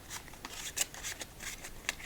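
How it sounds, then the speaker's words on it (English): A deck of playing cards is shuffled during a quiet four-deck solitaire session, giving soft, papery riffling bursts and light flicks repeated at close range with no talking. "let's give this deck one more shuffle"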